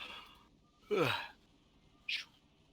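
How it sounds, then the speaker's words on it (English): A single breathy yawn from a streamer commentating a StarCraft 2v2 showmatch, rising into a loud drawn-out exhale around the one-second mark, followed by a shorter airy sigh-like breath near the end; quiet room otherwise. "I've been yawning a lot on the stream"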